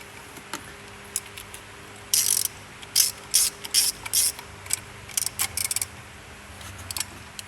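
A ratchet tightens bolts on a Chevrolet Cruze 1.4 oil cooler, giving several short bursts of crisp clicking separated by pauses, close and fairly loud in a quiet workshop.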